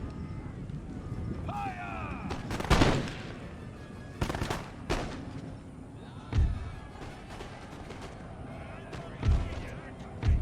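Troops firing guns in the Empire: Total War video game during a Prussian campaign battle, volleys of musket fire cracking in several bursts, some loud and close, with a voice talking between them.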